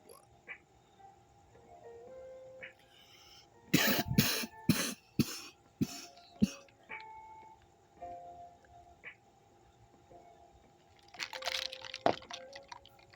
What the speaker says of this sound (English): If you don't cough like that with CBD, then you don't have good CBD